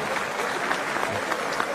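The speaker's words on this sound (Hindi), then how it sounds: "मैं चाहूंगा आप सभी साथ जोरदार ताली से उनका स्वागत करें।" Applause from the audience at a Raipur campaign launch welcoming a guest, a dense steady clatter of many hands clapping throughout, fairly loud and continuous with no talk over it.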